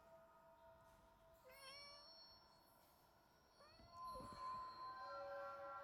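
A cat meows a few times at a distance, faint and short calls heard from a balcony over quiet room tone.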